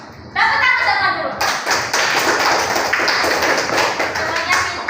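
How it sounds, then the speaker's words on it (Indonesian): Children in a classroom clap their hands together in a loud, sustained burst of dense claps, with a teacher's voice heard alongside. "tepuk tangan sama dulu."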